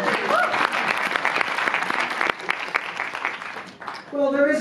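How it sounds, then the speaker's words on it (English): Studio audience applause during a radio broadcast from Santa Fe, New Mexico, a steady dense clapping that fills nearly the whole stretch before tapering, with a voice coming in near the end. "Dick appreciates the applause."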